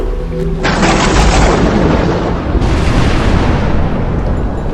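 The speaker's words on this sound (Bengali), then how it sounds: "প্রকাণ্ড আওয়াজ করে নদীর তীরে কোথায় যেন বাজ পড়ল" A huge, close thunderclap bursts out and rolls on as a dense, loud rumbling roar that swells again midway and keeps sustaining.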